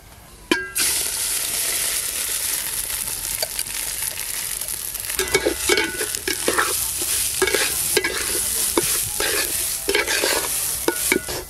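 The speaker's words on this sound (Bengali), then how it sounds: "ফোড়ন হয়ে গেছে, এবার চালগুলো দিয়ে দেব।" Rice is tipped into hot ghee with whole garam masala and bay leaf, then stirred, producing a continuous frying sizzle broken by repeated spoon scrapes and clatters against the pan, close and fairly loud, with no voices.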